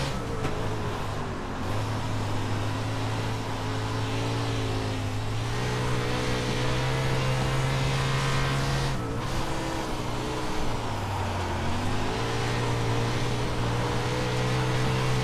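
A 410 winged sprint car engine on a dirt track in iRacing drones loud and close. Its pitch climbs and drops with throttle and shifts across the lap, with no talking over it.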